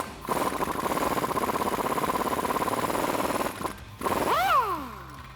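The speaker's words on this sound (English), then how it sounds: "I'm going to be using an 18mm socket and wrench to take those off." A socket tool works loose the lower sway bar end link bolt, 18mm, on a Jeep Wrangler JK 4-door during a suspension lift: a loud, steady mechanical rattle for about three seconds, a short gap, then a second burst ending in a falling whine.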